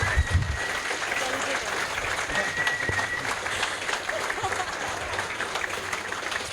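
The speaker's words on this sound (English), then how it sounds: "Can we get a big round of applause from them again?" An audience at a fan festival applauds a creator panel, with sustained clapping from a sizable crowd filling the room at moderate distance and a voice briefly heard over it.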